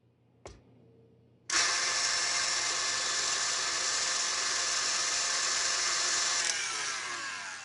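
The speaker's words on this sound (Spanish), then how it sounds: "Con él bato las yemas con otras 3 cucharadas de azúcar." An electric mixer with whisks beats egg yolks with sugar, switching on with a sudden loud, steady high whir that holds for several seconds before easing down, close by and with no talk over it.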